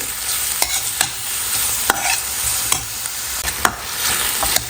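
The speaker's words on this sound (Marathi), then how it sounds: "यामध्ये लसूण आल्याची पेस्ट दोन मिनटं छान परतून घ्यायची" Garlic-ginger paste and browned onion sauté in a hot pan, a constant close sizzle punctuated by regular sharp spatula scrapes and taps as the mixture is stirred.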